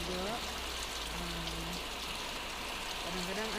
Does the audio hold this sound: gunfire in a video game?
no